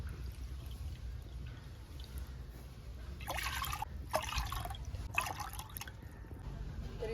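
Hot water splashes into a vessel for making lapshi, a sweet broken-wheat dish, in a few short pours close by over a quiet kitchen background.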